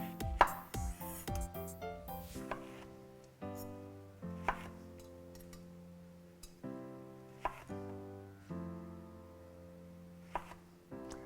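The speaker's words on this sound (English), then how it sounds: "Next, chop half of a lemon into wedges. And then chop half of an orange into wedges." Halves of lemon and orange are chopped into wedges with a knife on a cutting board, giving sharp, close, irregular knocks and cuts with short pauses between strokes.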